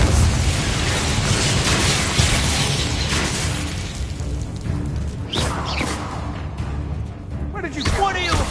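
An Expelliarmus spell is cast in a Harry Potter video game: a voice shouts over bursting, booming magical blasts and whooshes that fade and then swell again.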